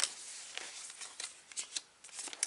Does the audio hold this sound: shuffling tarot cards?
yes